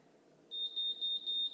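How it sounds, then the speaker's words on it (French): BaByliss Pro MiraCurl curling iron giving a series of four short, high electronic beeps in a regular rhythm, close and clear over a quiet background hum. "Et puis vous allez juste attendre le bip."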